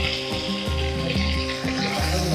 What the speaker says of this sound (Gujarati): ચાલો અત્યારે હવે રીંગણ બટાકાનું શાક વઘારી દઈએ